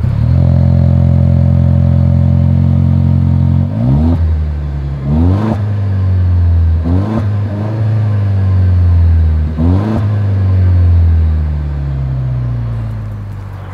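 A 2024 Toyota Land Cruiser idling with a steady exhaust rumble, then revved sharply four times in quick surges that fall back, ending in a longer rising rev, close and loud with no talk.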